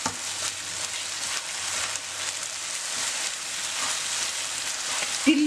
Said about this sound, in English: Fry this on a low flame.